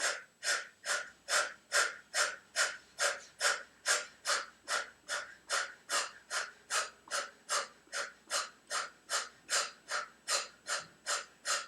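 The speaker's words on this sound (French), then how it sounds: "On prend une longue inspire. Expire." Slow yoga breathing, about thirty rhythmic breaths in and out, steady and close with no talking, each breath a soft airy rush.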